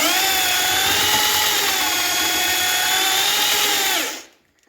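A power drill churns thick multi-purpose filler plaster at about 45% water, a loud strained whine holding steady under heavy resistance before winding down and stopping.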